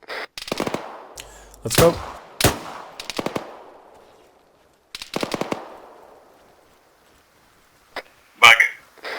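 Arma 3 gunfire during a squad training assault: sharp bursts of automatic fire and single shots at close range, separated by quieter gaps, with someone briefly talking among the shots.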